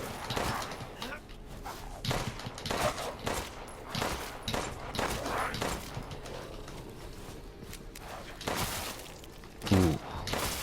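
Gunfire from shooting enemies in the video game Resident Evil Village: a rapid series of sharp shots with dense bursts running throughout, mixed with game sounds and occasional talk.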